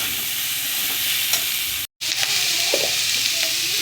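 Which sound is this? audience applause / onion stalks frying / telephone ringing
onion stalks frying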